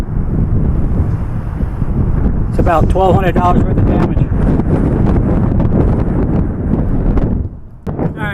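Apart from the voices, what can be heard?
wind blowing into the microphone outdoors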